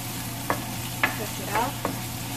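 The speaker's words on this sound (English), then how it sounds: "So I added olive oil just to help it sweat a little bit more." Italian sausage and vegetables sizzling in olive oil while being stirred, a steady soft frying hiss punctuated by four distinct scraping stirs of the spoon, with a low hum underneath.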